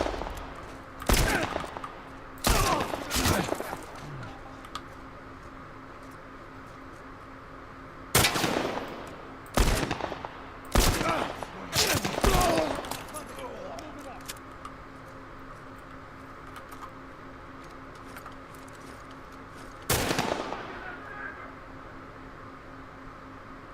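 Gunfire in The Last of Us Remastered comes in short separate bursts of sharp shots, several close together, with quiet gaps between them and one last burst near the end.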